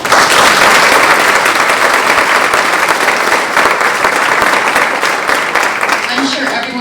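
Sustained applause from the audience at a fall grant celebration, loud and dense throughout, with a faint voice surfacing near the end as the clapping tapers slightly.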